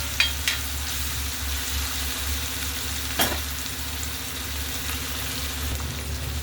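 Tomatoes frying in plenty of oil for a chana dal tomato curry, a continuous close sizzle with a low hum beneath and a few sharp clicks of a utensil against the pan, no voices.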